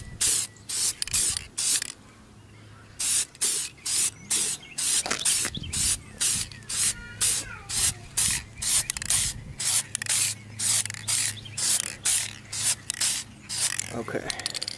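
Spray can painting an engine bay cover, with short bursts of hissing spray repeated in a steady rhythm, close and fairly loud, and brief quiet gaps between passes.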